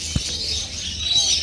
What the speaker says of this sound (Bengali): কিচিরমিচির শব্দে নিজেদের মধ্যে এরা যে কী কথা বলছে কে জানে।